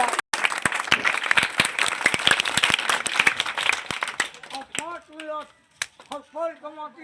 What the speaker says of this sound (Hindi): ताली बजा दो मेरे दोस्त, ताली बजाते हैं मेरे भैया।